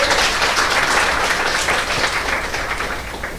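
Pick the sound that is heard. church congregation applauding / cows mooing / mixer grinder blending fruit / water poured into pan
church congregation applauding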